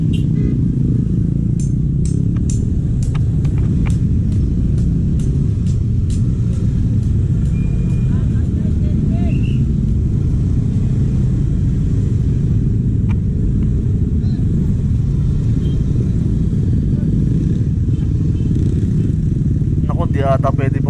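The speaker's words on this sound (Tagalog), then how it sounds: "Ito na, traffic na." Heavy road traffic with motorcycles and cars on the way to a grand rally at Arca South in Taguig, a steady loud low engine rumble close by with occasional horn-like tones, while people talk.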